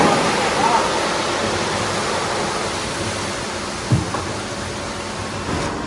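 Five kilograms of tomatoes and two litres of water pour into a large cooking pot for Bannu beef pulao, a steady loud rushing splash running the whole time with a brief thump near the end.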